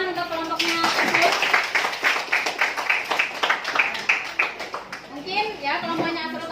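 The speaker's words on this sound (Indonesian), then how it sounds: "Tepuk tangan untuk kelompoknya tersebut." Classroom students applaud a group of classmates, a dense burst of many hands clapping that swells then thins out over several seconds, mixed with children's chatter and voices throughout.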